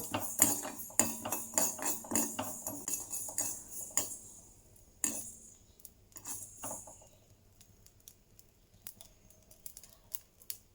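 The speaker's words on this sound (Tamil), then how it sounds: "இப்போ இதில் கடுகு லேசாக பொரிய ஆரம்பிச்சிருச்சுங்க." Mustard seeds crackling in hot oil for a Tamil-style onion pickle, with a dense burst of sharp pops for the first few seconds, then scattered single pops thinning out toward the end.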